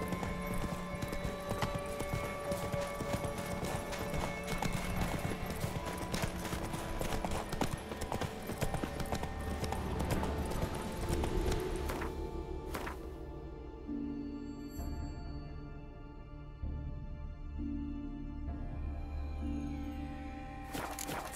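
Rhythmic galloping hoofbeats of a horse in The Witcher 3, steady and close, running under game music with a faint whinny.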